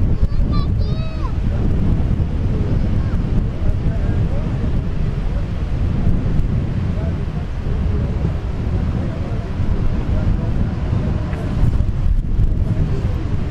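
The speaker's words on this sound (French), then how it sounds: "on se retrouve avec un peu de vent, hein, désolé" Strong wind buffets a microphone outdoors beside water during a team magnet-fishing cleanup, a loud continuous rumbling roar with gusts throughout and brief faint voice fragments near the start.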